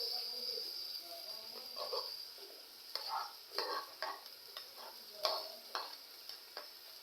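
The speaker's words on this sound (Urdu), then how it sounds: "پیاز کو ہم نے لائٹ براؤن کرنا ہے" Sliced onion, one whole, fries in a cup of oil, a soft steady sizzle with a high hiss and repeated scraping stirs spread across the stretch, quiet and close with no speech.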